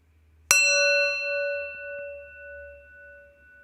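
A single meditation bell is struck once, giving a sharp onset and then a long, clear ringing tone that slowly pulses as it fades over several seconds. No one speaks.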